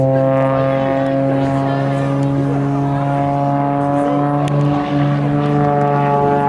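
An unlimited aerobatic aircraft flying a display at the Stellenbosch 2024 airshow, a loud sustained droning engine tone with strong steady harmonics that swells slightly, heard under a commentator's voice.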